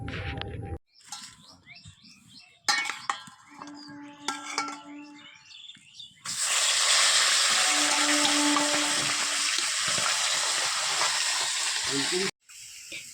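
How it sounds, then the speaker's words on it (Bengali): Small shrimp frying in a pan in a home kitchen, a loud, steady hiss and sizzle that rises sharply and holds for several seconds after a stretch of quieter clatter. "আর এদিকে আমি চচ্চড়ি বসাবো, তাই ফুল চিংড়িটা ভেজে নিচ্ছি"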